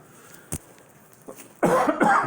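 A single short cough, then two louder, longer coughs close together near the end, with quiet background in between.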